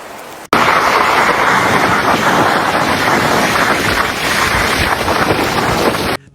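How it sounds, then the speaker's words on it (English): Strong wind gusts roar across the exposed I-80 highway at Donner Pass during a snowstorm, a loud, steady, broadband rush that fills the whole stretch after a brief quieter start, with no voices. "Up on the exposed ridgelines, wind gusts roared across the highway."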